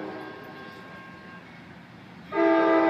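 A train hums faintly along, then a loud train horn blasts near the end, steady and close.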